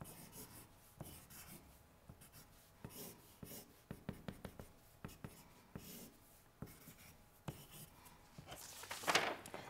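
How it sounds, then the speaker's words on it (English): Pen or pencil strokes sketch a treehouse on paper, close and quiet, with scattered scratchy lines, a burst of quick short marks in the middle and a louder scribble near the end. "And I might begin drawing my treehouse."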